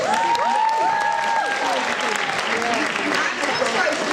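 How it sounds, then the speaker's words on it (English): An audience at a youth public speaking challenge event gives loud, sustained applause, with whistles and cheers sliding over the clapping near the start. "So I think another round of applause."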